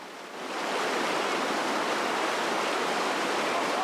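The swift-flowing Mopan river rushes past as a dense, steady roar of moving water. It swells in during the first half second and then holds constant and loud, with no voices.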